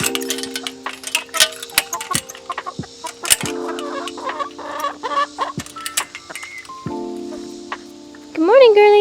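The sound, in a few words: chickens let out of the coop in the morning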